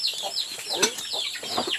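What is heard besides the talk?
chicken clucking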